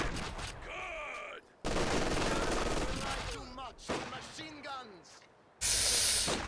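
LMG Grenadiers fire light machine guns in Company of Heroes 2, sustained bursts of rapid gunfire that cut in and out between short gaps, mixed with other battle sounds and a sharp hissing blast near the end.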